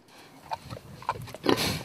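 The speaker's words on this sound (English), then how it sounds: "this feral hog has brought on a new twist to working Texas cattle" Feral hog used to work Texas cattle, giving a few short, close grunts and oinks, the last one longer and louder, against a quiet background.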